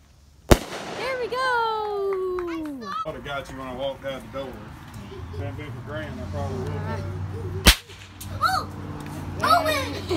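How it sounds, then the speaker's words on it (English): Two sharp, loud New Year's firework bangs crack out several seconds apart, with whistling and excited children's voices shouting between them. "Are you lighting a firework?"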